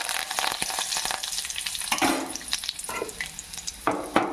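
Chana dal, cumin and mustard seeds frying in oil in a pan, a close steady sizzle with scattered crackles and spatters.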